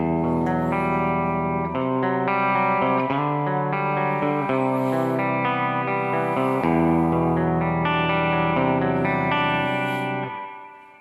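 An electric guitar through a Kemper Profiler Fender Deluxe amp profile plays sustained chords and melodic lines with a warm, lightly driven tone and chorus-like shimmer, loud and continuous with no voices.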